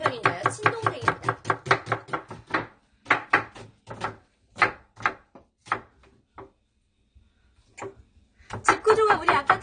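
A knife chops rapidly on a board nearby while salmon steak is being prepared in a home kitchen, then the strokes slow and space out, pause, and a voice speaks briefly at the end.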